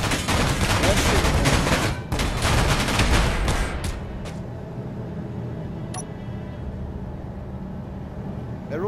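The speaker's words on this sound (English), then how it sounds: "They're also shooting asteroids." Rapid gunfire rattles in loud dense bursts as ships shoot at asteroids during a meteor storm in Space Engineers, then fades to a low rumbling hum.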